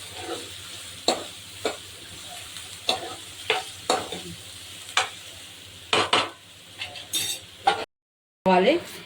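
Green chillies cook in a chicken curry while a spoon scrapes and clinks against the pan in repeated strokes over a soft, continuous sizzle. The sound is close and has no talking.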